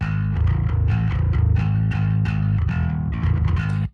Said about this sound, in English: Here's the distortion pedal that I use.